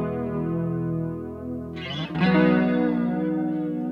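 Electric guitar played through a NUX CH-3 chorus pedal set to high depth and low speed, giving a sustained, shimmering chord that swells, with a brighter re-strum near the middle ringing out loud and alone.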